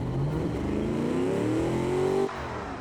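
A drag race car engine with huge four-inch exhausts revs in a driving simulation, a loud continuous roar with pitch climbing steadily for about two seconds before it cuts off abruptly, no talking over it.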